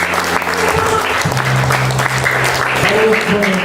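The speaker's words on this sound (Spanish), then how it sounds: "Aleluya, dale un fuerte aplauso a Jesús." Congregation applauding in a church, lively sustained clapping from a crowd while a voice speaks over it and tones sound underneath.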